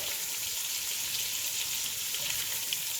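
Shrimp sizzle steadily in a frying pan as they cook pink, a continuous bright hiss at close range with no talk.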